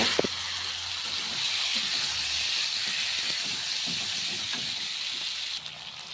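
Curry with salt, turmeric and cumin powder sautés in a pan with a loud, steady, close sizzling hiss that barely changes throughout.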